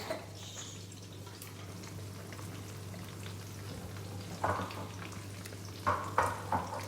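Veal pieces frying in oil in a pan give a steady, close sizzle over a constant low hum, with a few louder bursts of clatter or spatter near the end.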